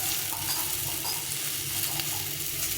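Potatoes and tomato are stir-fried in a pan with salt, turmeric, cumin and chili powder and a splash of water, giving a steady, close sizzle with stirring scrapes throughout.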